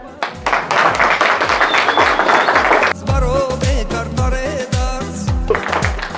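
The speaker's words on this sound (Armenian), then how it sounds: "Դուք էլ ծափտակ, հա" Guests applaud at an 18th birthday party, steady rhythmic clapping close by and loud, with music and voices running underneath throughout.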